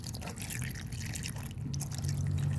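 Water trickling and splashing steadily into a grinder, a continuous liquid pour with faint dripping, close by and fairly quiet.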